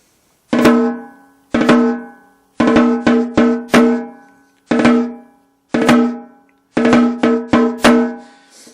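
Crisp snare drum strokes play a slow triple ratamacue, each group starting with loose, open drag bounces before the accented hits, ringing and alone.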